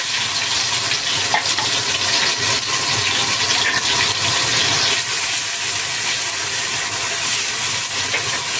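Chopped garlic and onion frying in a pan of hot oil while cooking Malabar spinach with lentils, a steady, loud, continuous sizzle close up with no pauses and no talking.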